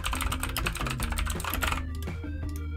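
Rapid clicking of a computer keyboard as a name is typed into old DaVinci Resolve editing software, a fast close run of keystrokes over a steady background hum.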